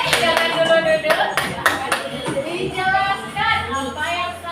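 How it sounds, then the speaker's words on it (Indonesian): A classroom of students claps hands during a teaching practice lesson: a few scattered, uneven claps close by, mixed with talking voices. "Tepuk tangan semuanya"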